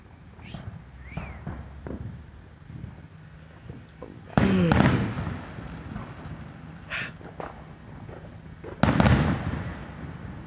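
Fourth of July fireworks explode outdoors, with two loud booming bursts several seconds apart followed by crackling, plus smaller distant pops and faint voices between them.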